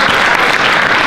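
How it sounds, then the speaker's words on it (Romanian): An audience at a marketing conference breaks into loud, dense applause for a speaker, a short continuous burst of clapping. "Aplauze"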